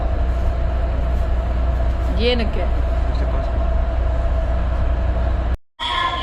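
Onboard rumble of the Palm Atlantis monorail on Palm Jumeirah, Dubai: a steady low drone and hum runs throughout, with a brief higher whine midway and a voice speaking briefly, then a sudden dropout near the end.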